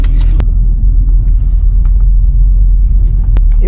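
A C6 Corvette's V8 idles with a choppy, lumpy lope at a bracket race, loud and close, its rumble steady throughout with a couple of brief sharp clicks.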